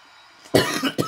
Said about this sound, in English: I'm starting to get a bad cough